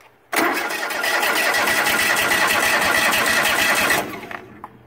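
Craftsman GT3000 lawn tractor engine cranks over and catches, running loud and steady at a rough, rapid idle for about four seconds before cutting off abruptly.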